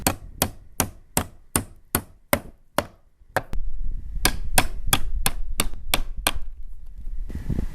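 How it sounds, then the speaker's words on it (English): Sharp hammer blows drive nails into slate roof battens, about a dozen evenly spaced strikes, then a short pause and another steady run of hits over a rising low rumble of background noise. "Now they're ready for the old hammer and nail."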